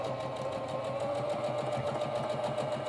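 Sewing machine running a zigzag stitch along a T-shirt sleeve hem, a close, steady rapid mechanical chatter with an even rhythmic pulse throughout, no talking.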